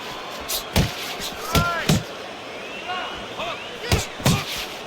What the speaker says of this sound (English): He digs in with an uppercut after blocking that shot away.